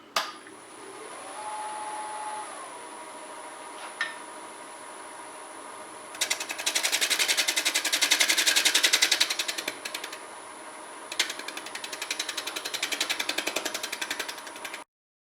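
Sandpaper held against a spinning box elder trumpet bowl on a wood lathe, with the lathe's steady mechanical whine underneath and two louder stretches of dense, raspy sanding, each lasting a few seconds.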